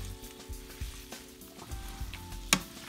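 Roast beef and potato hash sizzles steadily in a hot pan on medium-high heat, close and constant, with soft scraping and pressing sounds and one sharp clatter near the end.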